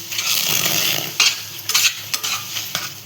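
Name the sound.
stirring mashed banana mixture in a pan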